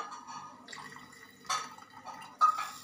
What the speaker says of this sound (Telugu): కొంచెమే తీసుకుని వాటర్లో కలిపి దాంట్లో పోసేస్తున్నాడు